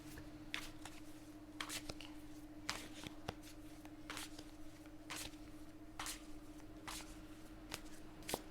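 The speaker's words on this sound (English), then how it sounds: "to shuffle the cards a bit." A deck of cards is shuffled in repeated quick riffling bursts, each a short papery flutter, close and fairly quiet over a low steady hum, with no talking.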